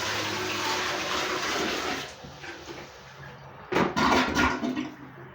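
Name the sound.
running tap water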